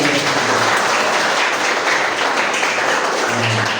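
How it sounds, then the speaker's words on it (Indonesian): A dense, steady wash of applause fills a morning lecture for nursing students, unbroken and fairly loud from start to finish. "Tepuk tangan dulu."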